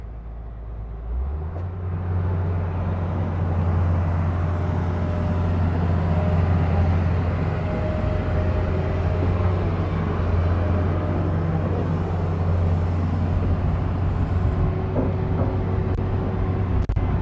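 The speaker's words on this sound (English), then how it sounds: "So Ben, let's see a nice 360 spin." A tracked excavator spinning a full 360 degrees gives a loud, steady diesel engine drone with a low hum that swells in just after the start, holding level throughout with no speech.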